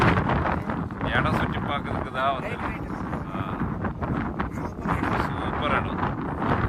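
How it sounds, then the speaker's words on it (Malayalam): Strong wind buffets the microphone in a hill village near Ooty, a loud continuous roar with gusty surges throughout, while people talk over it. "കാറ്റ് ഒരു രക്ഷയില്ലാട്ടാ, അന്യായ കാറ്റാ, ഒന്നും പറയാനില്ല."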